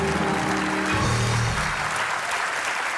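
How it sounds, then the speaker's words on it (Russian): Studio audience clapping on a television show, a dense steady roar of applause heard fairly quietly, with low musical tones underneath at the start. "Ваши аплодисменты!"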